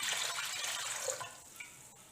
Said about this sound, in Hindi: इसमें तकरीबन आधा जग के करीब हम इसमें पानी ऐड करेंगे